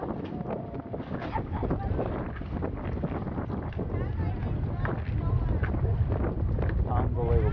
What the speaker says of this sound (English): Scary noise. That's power. Shuttle. That's that engine.